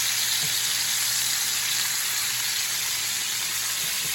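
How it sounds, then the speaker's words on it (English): Ribeye steaks searing in a hot pan give a constant, even sizzle with a hissing frying wash throughout, no talking. "you want to get a real nice sear on both sides of the steaks"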